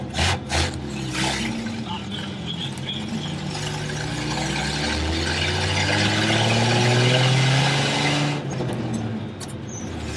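A 1978 Chevy C10 pickup engine pulls away in first gear, its low drone rising steadily in pitch and loudness as the throttle is fed gently, close and continuous with no talk.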